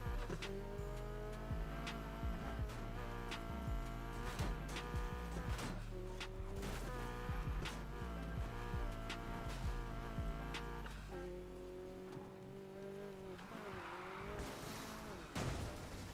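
Video game Honda car driving, a steady engine drone with shifting revs and tonal whine running throughout, loud and close, with some layered game music or effects and no speech.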